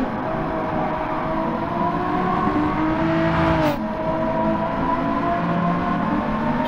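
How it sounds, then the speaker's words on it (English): A NASCAR stock car in Gran Turismo 7, racing at Maggiore, spins its tires, a continuous engine roar with rising pitch and a brief sharp swell as another car passes close. "Hear him spinning the tires there"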